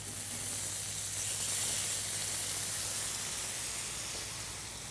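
Apple smoked bacon and capers sizzling in a pan, a steady bright hiss and crackle that holds evenly for the whole stretch with no voices.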